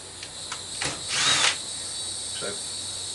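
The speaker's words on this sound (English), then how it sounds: "grab my cordless drill." A cordless drill removes Phillips screws from an ice maker, whirring in a few short bursts, one longer spin in the middle, with light clicks before and a faint tap afterward.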